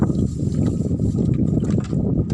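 Steady low wind rumble buffeting the microphone outdoors, continuous and fairly loud, with faint water or boat noise underneath.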